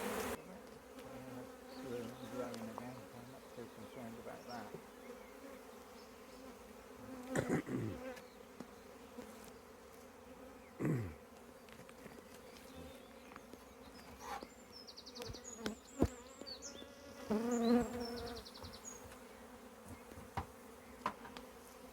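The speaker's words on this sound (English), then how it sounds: "The bees were understandably quite annoyed with this." A steady, dense buzzing of many bees fills the whole stretch, with occasional louder thumps and scrapes breaking through nearby.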